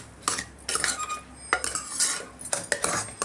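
Metal utensil scraping and clinking against a pan while rice with pepper and cumin is stirred and mashed, several distinct scrapes and taps in irregular rhythm, close and fairly loud, no voices.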